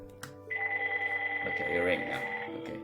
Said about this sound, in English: it rings now.